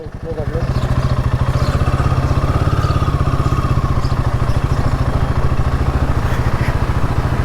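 A motorcycle engine runs steadily close by, its loud, even throbbing chug holding without pause from start to end.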